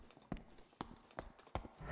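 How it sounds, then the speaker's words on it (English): Footsteps in the Dark and Darker video game land as a few sharp, evenly spaced hard thuds, faint and somewhat distant, like hooves or boots on stone. "Can't tell if those are player footsteps."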